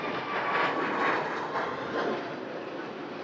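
A Qatar Airways airliner departing Manchester Airport for Doha gives off a steady, distant broadband roar of jet engines that swells and fades gently throughout, with no voices.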